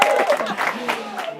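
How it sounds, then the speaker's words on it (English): Applause from an audience at a Basque business challenge final event, a dense wash of clapping that fills the moment as a participant is called to the stage, with voices mixed faintly into the crowd noise. "Give it a big clap."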